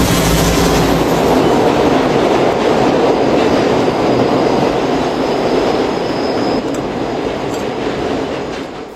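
Train rolling along rails, a steady loud broadband rumble with rail rattle filling the whole stretch, continuous and close, with a faint high squeal in the middle.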